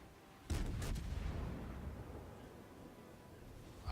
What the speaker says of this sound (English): Oh, that's a good salvo.